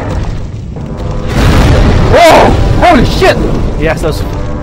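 Fiery palm explosions in the video game Demon's Souls burst in a quick series of booms and whooshing blasts, loud and close, with excited voices reacting around them.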